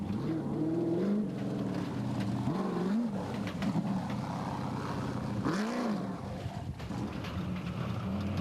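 An off-road rally car in the Adenco 400 desert rally: its engine revs and drops through gear changes under heavy wind rush, loud and fairly close throughout.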